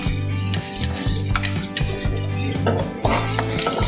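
Garlic fries in a pan with onions for Filipino chicken hamonado, a loud close sizzle broken by rhythmic spoon scrapes against the pan.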